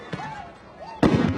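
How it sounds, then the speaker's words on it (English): Flashbang and gas canister launches fired at protesters during a news report, a sharp pop followed by a louder bang at mid distance, with people talking and crowd noise underneath. "Here come flashbangs and canisters coming right up at us."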